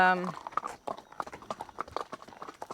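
A horse on a trail ride in Ocho Rios, Jamaica, clip-clops at a walk, its hooves steady and soft, with a short voice at the very start.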